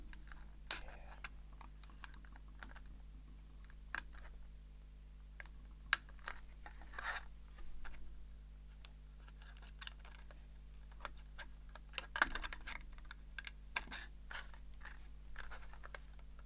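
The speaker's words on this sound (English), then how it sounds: "So just shaping this bit of plastic to meet the shape that I need." Small, scattered scraping and clicking as a piece of plastic is cut and shaped by hand, faint irregular ticks over a quiet background hum.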